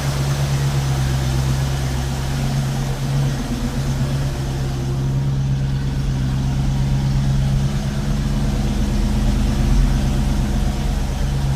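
A 1968 Mustang's 289 V8, freshly rebuilt carburetor, idles steadily and close, a deep continuous rumble with a faint hint of an occasional miss, no voices.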